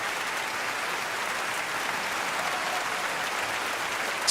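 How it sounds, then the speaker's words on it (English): Steady audience applause from a live show crowd, dense hand claps filling the whole stretch at an even, sustained level with no voices over it. "let's get the hand claps going here"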